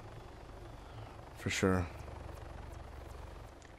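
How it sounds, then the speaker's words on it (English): A helicopter in the video game Arma 3 drones as a low, steady rumble in the background while a player speaks briefly over it. "If that helicopter comes into land, we shoot him."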